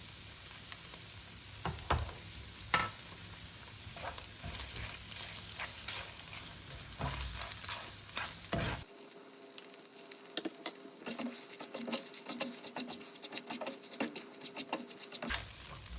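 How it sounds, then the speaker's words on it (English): Cooked meat sizzles quietly in a pan with tomato puree, giving a soft crackling patter broken by occasional louder pops and spoon scrapes; the sound drops out and shifts partway through. "When the meat is cooked, add some tomato puree."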